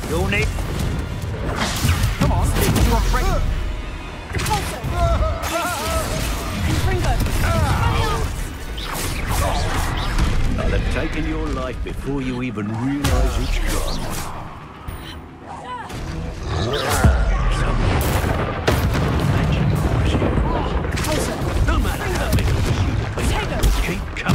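An Incendio fire spell is cast repeatedly in the Hogwarts Legacy video game, giving bursts of fiery blasts and crashing impacts amid dense, loud combat noise with voices over it.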